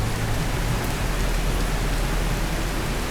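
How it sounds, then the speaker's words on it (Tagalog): Steady rain pours onto a flooded street, a dense even hiss of drops hitting water and pavement, close and continuous with no voices. "Bumaha na naman ang kalsada. Yan. Ngayon lang umulan."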